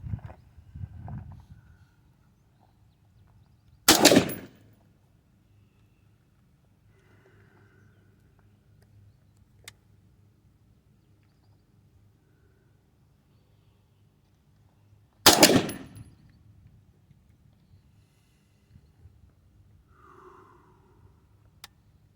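Two loud, sharp rifle reports fired from the prone position, spaced roughly eleven seconds apart, each standing alone against a quiet outdoor background with faint incidental noises between them.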